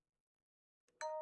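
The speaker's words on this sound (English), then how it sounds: "This guy got a notification." A bright notification ding rings out after a second of silence, a short attack followed by a sustained, clear chime, close and alone.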